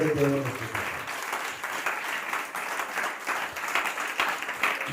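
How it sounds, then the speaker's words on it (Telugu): A church congregation claps loudly and steadily after a sermon on love, a dense sustained wave of applause filling the room for several seconds with no voices over it. "గట్టిగా చప్పట్లు కొట్టి"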